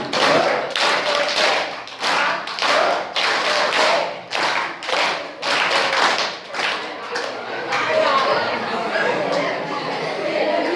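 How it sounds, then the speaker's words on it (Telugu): A seated audience claps together in a counted rhythmic pattern, the Vasavi club clap, loud and close with repeated sharp bursts of many hands, pausing briefly between groups before a final longer round mixed with chatter. "మా వాసవి క్లబ్ చెప్పట్లు అనమాట"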